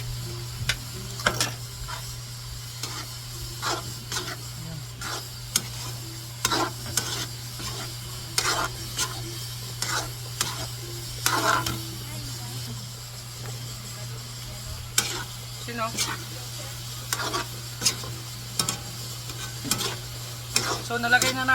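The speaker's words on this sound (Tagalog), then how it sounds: "ginigisa na natin guys sa ginigisa na natin guys sa sibuyas" Ground beef and hotdog sauté with onion in a pan, sizzling steadily under repeated rhythmic scrapes and taps of a spatula against the pan, close and continuous.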